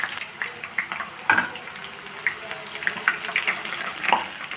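Garlic omapodi strands fry in hot oil with a steady, dense crackle and sizzle, broken by sharper pops and bubbling bursts throughout, close by and with no voices.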